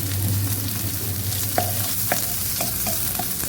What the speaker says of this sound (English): I'm gonna just fry the onions for a while.